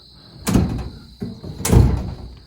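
A storage drawer in a cargo trailer slides and bangs shut twice, each a rolling rumble ending in a hollow thump, loud and close over a steady high hum.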